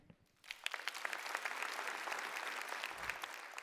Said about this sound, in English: Clap your hands if you think this is real.